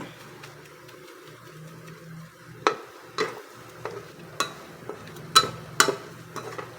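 Chorizo frying in oil in a pan, cooked for pancit bihon, with a low steady sizzle broken by sharp, irregular clicks and scrapes of a utensil stirring against the pan.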